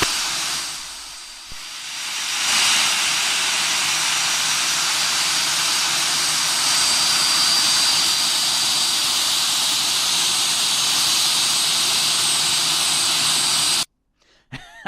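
Jet aircraft engines roaring at East Midlands Airport at night, a loud, sustained broadband roar and hiss that swells in after a couple of seconds, holds steady, then cuts off abruptly near the end.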